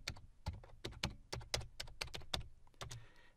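Rapid, close clicking of computer keyboard keys as a PowerShell command is typed, quiet and uneven in rhythm, with no voice.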